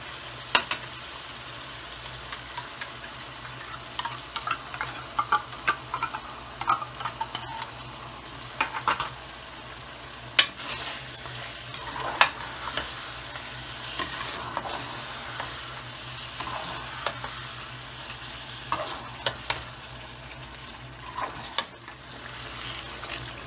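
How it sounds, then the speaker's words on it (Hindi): White karahi chicken sizzling in a pan after cream is added, a steady close frying hiss with scattered pops and occasional spoon scrapes and clinks stirring the pot. "और अब हम इसमें डालेंगे क्रीम।"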